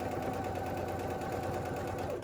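A sewing machine hums continuously at close range while it stitches back over an existing seam on a beauty bag, one steady run with a smooth whirring rhythm.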